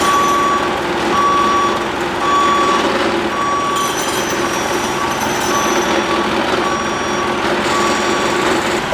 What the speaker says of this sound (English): try to ease it down with the forklift